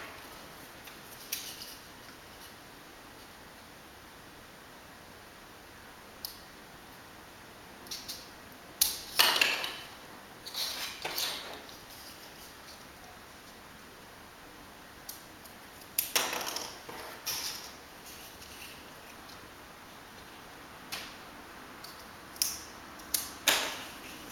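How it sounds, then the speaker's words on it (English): Scissors cutting paper pipes along marked lines, with sparse snips and crisp rustles coming in small clusters, close and fairly quiet against a still room. "we're going to cut these pipes along the lines indicated on the diagram"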